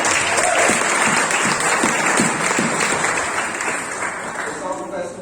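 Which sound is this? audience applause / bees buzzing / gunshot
audience applause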